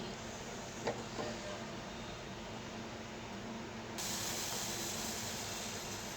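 Rose flower tea boils and foams in a pot, a steady broad hiss with a faint tap or two early on, the bubbling hiss swelling brighter and stronger partway through.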